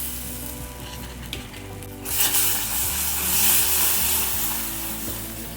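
Warm cream poured into hot caramel for chocolate salted caramel, giving a low bubbling sizzle that suddenly swells into a loud, hissing, steamy burst and keeps seething.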